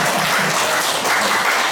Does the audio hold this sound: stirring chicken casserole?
no